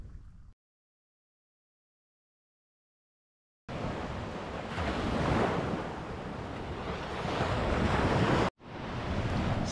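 Ocean surf at rising tide on a Cape Cod beach, a steady broadband wash of breaking waves mixed with wind buffeting the microphone, loud and continuous after an initial brief silence.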